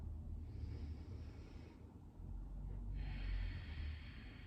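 Slow deep breaths during a yoga stretch, two soft airy exhales a second or so apart, close and quiet with no talking.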